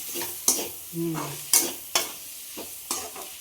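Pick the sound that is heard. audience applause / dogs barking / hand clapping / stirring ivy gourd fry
stirring ivy gourd fry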